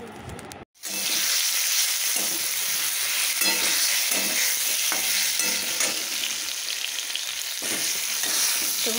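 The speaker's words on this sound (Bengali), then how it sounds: "অদ্রিজা কোনো দিনই পটল ভাজা খায় না, কিন্তু কালকে ভাজা করেছি, ওর এত ভালো লেগেছে তো আজকেও ভাজা করছি।" Half-ripe pointed gourd (potol) fries in hot oil with a loud, dense, continuous sizzle that starts abruptly after a brief silence and holds steady throughout, with occasional soft stirring knocks.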